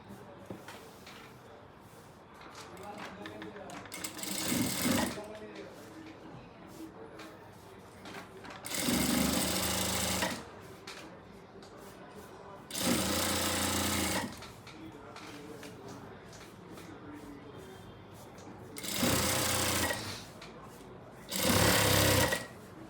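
Sewing machine stitching a Farsi salwar, running in five separate bursts of one to two seconds each with quiet gaps between, loud and close.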